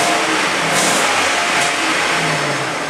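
A used 2003 Chevy LQ4 6.0L V8 engine of 300 horsepower with 176K miles, warmed up on a run stand, revs loudly and close, its roar rising and holding steady throughout.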